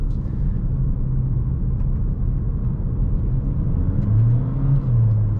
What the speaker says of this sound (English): Now you can hear the petrol engine, and it becomes a little bit more noisier inside of the cabin